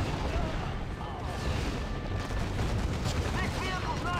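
Dense, continuous artillery fire and explosions in the video game Act of War, a loud rumbling barrage with overlapping blasts throughout.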